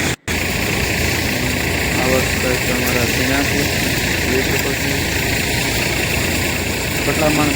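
A tractor engine idles close by with a low, even rumble throughout during pearl millet harvesting, and faint voices come through underneath.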